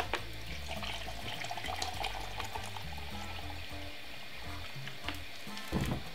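Water runs steadily from a kitchen tap while making lemonade, a continuous rushing splash with some clatter near the end.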